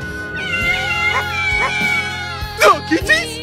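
Several high, sliding cat meows come in short bursts over steady background music, with a couple of louder yowls near the end.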